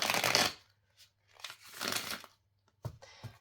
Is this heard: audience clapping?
no